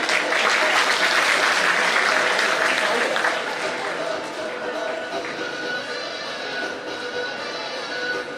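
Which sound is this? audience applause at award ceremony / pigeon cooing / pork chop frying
audience applause at award ceremony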